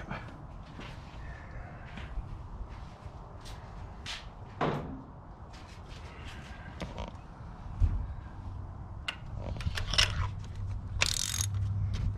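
A ratchet tightens coil pack bolts on a Fiat 124 Spider engine, with faint, intermittent clicks and small metallic knocks and handling noises close by, no voices.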